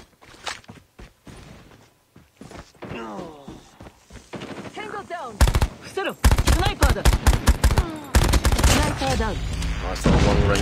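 Rapid bursts of Switchblade X9 submachine gun fire in Call of Duty: Mobile crackle sharply and repeatedly, growing dense and loud toward the end, with a player's voice talking over the shooting.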